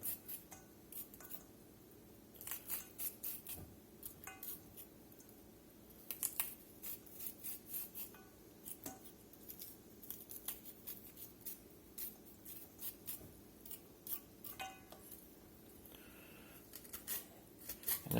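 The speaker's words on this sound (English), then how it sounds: "we're just going through here and just cutting these kernels off" A knife slicing kernels off a corn cob for maque choux, giving a quiet, steady run of crisp scraping cuts and soft taps against a board, close and faint with no talking.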